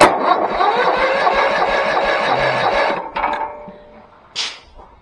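A small gas tractor engine turns over steadily on the starter during a compression test, a loud continuous cranking drone that cuts off after about three seconds, followed by a brief short burst.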